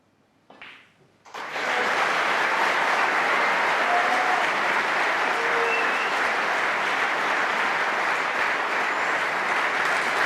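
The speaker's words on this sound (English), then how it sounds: "lots of applause" After a brief stir, a snooker audience at the World Championship breaks into loud, sustained applause, a steady dense clapping that continues evenly and alone for several seconds.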